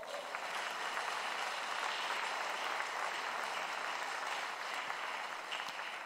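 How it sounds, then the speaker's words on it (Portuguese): A church audience applauds with dense, sustained clapping that holds at an even level for several seconds, with no voices on top. "Você pode aplaudir a Ele?"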